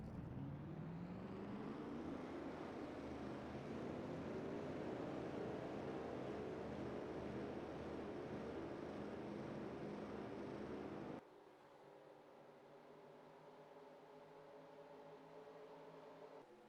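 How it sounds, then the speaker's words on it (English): Race car engines fire up in a NASCAR racing video game at Michigan, a dense, loud, steady roar from the whole field that rises in pitch, then drops abruptly to a lower, rougher idle. "Drivers, start your engines!"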